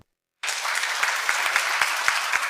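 Debate audience breaking into applause after a brief silence, a loud, sustained wash of clapping with a few sharper individual claps standing out.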